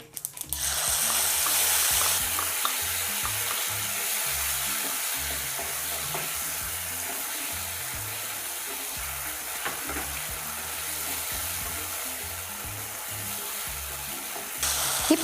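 Tomato, ginger and garlic paste fries in a hot pan with a steady, dense sizzle, punctuated by occasional stirring clinks close by, no voices.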